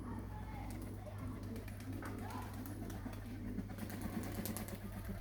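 Pigeons cooing steadily with soft repeated calls over a constant low hum, with possible faint voices in the background while a trained pigeon flies.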